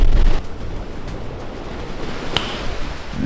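Sea waves on the North Sea shore of the island of Sylt, a loud, broad rush of surf mixed with wind buffeting the microphone, steady and close with no talking.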